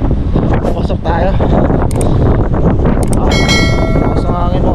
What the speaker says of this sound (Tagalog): Lakas ng hangin mga best friend